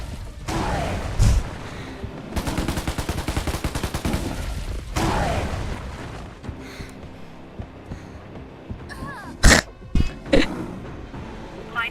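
Gunfire in the online shooter Undawn crackles in rapid automatic bursts over several seconds, followed later by a few louder, isolated single shots amid quieter game ambience.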